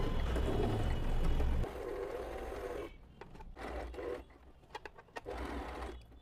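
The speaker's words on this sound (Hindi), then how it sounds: "इसके किनारे किनारे हम सिलाई चला देंगे। सिंपल सिलाई चलानी है आपको।" An Usha Janome sewing machine stitches around a fabric patch: a loud, fast continuous whirring run, then shorter stop-start bursts of stitching with small clicks between them.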